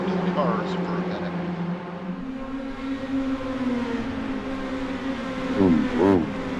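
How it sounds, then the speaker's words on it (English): Speedway race car engines drone steadily at a distance, with a couple of cars whining past near the end; a voice talks briefly at the start. "Let you listen to the cars for a minute."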